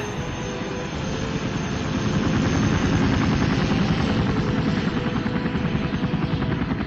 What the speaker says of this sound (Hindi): ये हेलीकॉप्टर कहाँ जा रहा है?